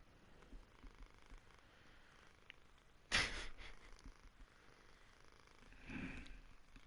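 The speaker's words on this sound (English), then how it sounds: "Mittens, this isn't a purring matter." Soft, close cat purring, faint and low under quiet room noise, with a brief sharp rustle midway and a slightly louder purring swell near the end.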